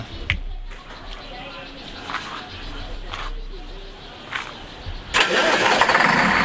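Scania 13 engine on a double-decker tour bus: a steady mid-pitched engine rumble that swells into a loud rev near the end, with someone talking over it.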